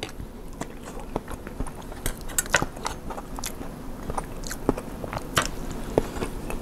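Close, crisp bites and chewing of grilled fish with sweet-spicy Thai chili paste, irregular crunchy snaps and soft mastication with occasional light scrapes of utensils, no talking.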